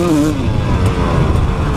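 A KTM 300XC-W two-stroke dirt bike engine revs loud and close, a steady raspy buzzing drone that holds high with slight pitch wavering throughout.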